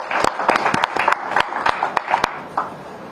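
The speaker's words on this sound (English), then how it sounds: "So a big round of applause, please join me for Tanisha Krasto." Scattered hand claps from a press conference audience greet badminton player Tanisha Crasto, a sparse, uneven burst of individual claps rather than a full ovation, fairly close and clear.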